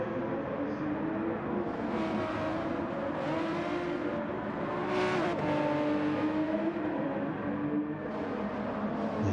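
Race car engines roar continuously at the Nurburgring GP circuit in GT Sport, with rising and falling revs from several cars close together and a loud surge as one passes midway.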